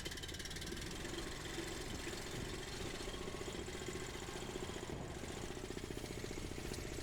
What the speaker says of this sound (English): So I gotta crank up this compressor